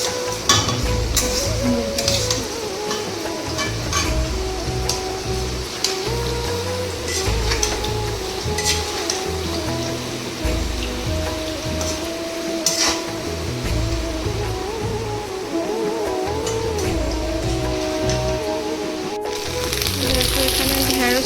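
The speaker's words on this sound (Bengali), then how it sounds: "এখানে ঢেঁড়স ভাজা চলছে" Okra frying in a pan for a Radhashtami festival meal, a steady crackling sizzle running throughout with kitchen clatter and occasional voices in the background.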